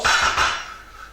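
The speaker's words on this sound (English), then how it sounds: "Just going to give that a little stir." Beef kofta meatballs stirred through curry sauce in a cooking pot, a continuous scraping, clinking swish of a utensil against the pot that swells twice and then fades, close and moderately loud with no talking.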